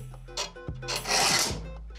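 A hand file rasps across the teeth of an old hand saw being resharpened at the opposing angle, giving a few close, gritty strokes in quick succession with short pauses between them.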